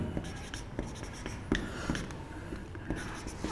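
Chalk or marker writing on a classroom board, a series of short scratchy strokes and taps in an irregular rhythm, close and moderately loud with no talk.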